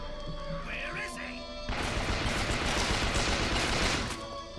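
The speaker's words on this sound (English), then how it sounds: "Stop shooting me!" Dense, sustained gunfire in Bioshock Infinite erupts after a quieter stretch with game sounds and continues as a steady close barrage for several seconds, with a voice shouting over the start.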